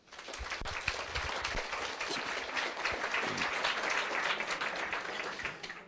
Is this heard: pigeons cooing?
no